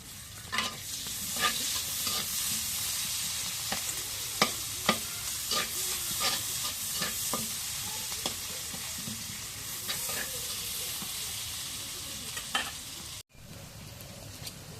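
Onion and chili sizzle continuously in hot oil, with sharp clicks and scrapes of a spoon stirring the pan, close up.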